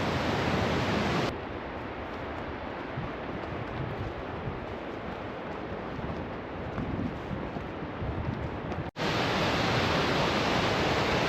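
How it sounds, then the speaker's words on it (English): Steady broadband roar of a waterfall on a forest hiking trail in Big Timber Falls, loud and constant like rushing white noise, briefly quieter in the middle as if muffled, then full again. "Here's the top of the waterfall."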